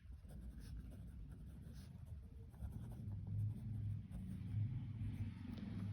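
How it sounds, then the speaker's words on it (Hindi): Pencil scratching on paper while working a Class 10 coordinate geometry problem, a steady soft scraping that runs the whole time under a low rumble of background traffic. "पेंसिल से लिखना क्योंकि बाद में इरेज करना है"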